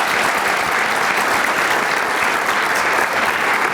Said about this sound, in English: If you could give them a round of applause, I would appreciate